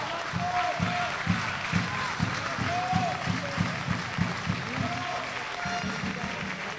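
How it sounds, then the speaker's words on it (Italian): A basketball crowd at a Ruckersanve versus Urania Milano game claps for a player in a rhythmic, steady beat of distant hands, while a commentator talks over the applause. "Applausi per lui."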